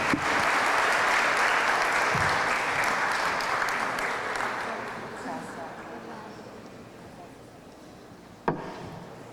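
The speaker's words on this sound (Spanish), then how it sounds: "les damos un fuerte aplauso" Audience at an international forum session applauding the speakers, dense clapping that starts loud and gradually thins and fades, ending with a single sharp knock.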